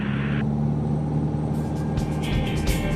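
Small single-engine airplane at full throttle on its takeoff roll, with a loud, steady engine drone and a strong low hum heard from inside the cockpit, continuous and unbroken.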